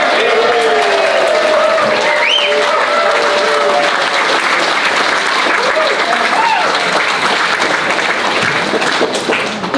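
Loud, sustained applause from a large crowd at a celebration event fills the room, with some cheering and voices mixed into the clapping throughout.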